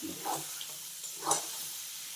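Potatoes frying in a pan for aloo dum give a soft, steady sizzling hiss with a couple of brief louder bursts, at low volume and with no talking.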